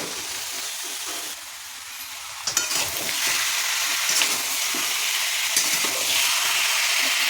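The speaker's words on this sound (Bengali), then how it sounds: "পেঁয়াজটা অর্ধেক ভাজা হয়ে গেছে, এবার মাংসটা দিয়ে দেবো।" Chicken pieces frying in a pan over half-fried onions and whole spices (fenugreek, fennel, bay leaf, dried chilli) for a chicken curry; a loud, steady sizzle with a sharp clatter early on, no voices.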